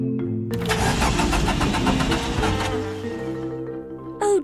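A car engine with no petrol cranks with a rapid whirring stutter that never catches, then the starter stops and the engine falls silent.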